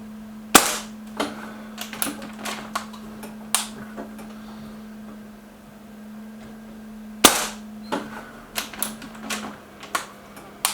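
Walther Rotex RM8 UC .177 air rifle fired at a target, two sharp loud shots several seconds apart, each followed by clicks and clacks of the action, over a faint steady hum.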